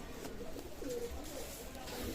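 Golden pigeons cooing softly, brief low coos in a close, faint recording with background voices murmuring.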